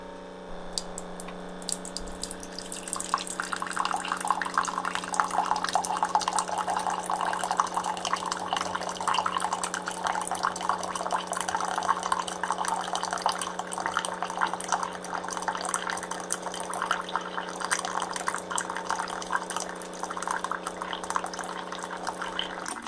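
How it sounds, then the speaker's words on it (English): Keurig K-Elite coffee machine dispensing an 8-ounce cup of hot water, a steady pouring and trickling stream with a constant pump hum running throughout, fairly close and even in level. "The hot water is done brewing."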